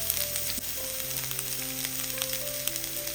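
Chopped onion and garlic fry in oil in a pan, giving a dense, steady sizzle close to the listener, with a faint hum running underneath and no speech.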